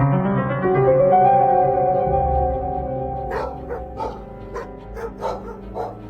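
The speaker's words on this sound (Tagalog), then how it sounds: "Ungol ng mga aso mula sa labas ng bahay ang umagaw sa aking pansin." Dogs outside a house let out a loud, drawn-out howling whine, then a rapid run of sharp, repeated barks that carries on steadily to the end.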